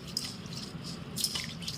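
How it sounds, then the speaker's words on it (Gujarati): Rice being rinsed in a pot of water in a home kitchen, with soft dripping and sloshing of water against the grains and container, fairly quiet and steady with no talk. "અને આપણે એને 1 થી 2 પાણીમાં ધોઈ નાખશું।"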